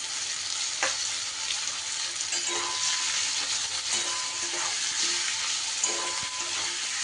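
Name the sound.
chopped onions frying in hot oil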